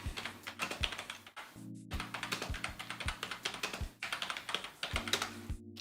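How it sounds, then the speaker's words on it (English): Rapid clicking of keys on a computer keyboard, close and steady with brief pauses between bursts of typing, heard alone without any talking. "Let me type this in real quick."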